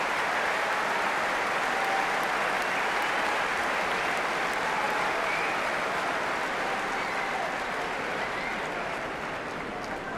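A Wimbledon crowd at the 2013 Murray versus Djokovic final applauds steadily for about ten seconds, a dense, even wash of clapping that fades slightly at the end.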